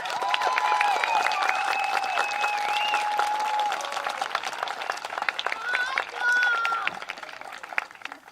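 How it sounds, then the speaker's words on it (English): An audience at a second-grade moving-up school ceremony claps in a loud, sustained round of applause, with children's voices and cheers rising over the clapping. "How about another big round of applause?"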